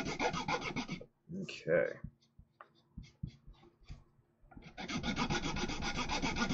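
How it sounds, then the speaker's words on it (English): Sanding and filing hardened super glue mixed with baby powder filler on a model kit part, giving a steady close raspy rubbing in long bursts with a sparse, tick-filled pause between them and a brief spoken word. "one thing to keep in mind with sanding, filing, grinding this super glue and baby powder, this powder is nasty"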